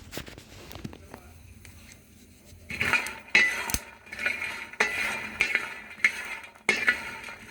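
Dried chickpeas and peanuts roast in a pan, quiet at first, then a series of close rattling clinks and scrapes as they are stirred and tossed.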